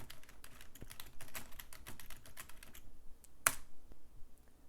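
Rapid typing on a computer keyboard while setting up a botnet service, a dense run of close, clicky keystrokes that stops abruptly, followed by near silence with one sharp click.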